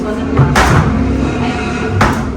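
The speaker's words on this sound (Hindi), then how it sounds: "दरवाज़ा" A door in a home being redecorated slams twice, a sharp, loud bang near the start and another near the end, with a low indoor background in between.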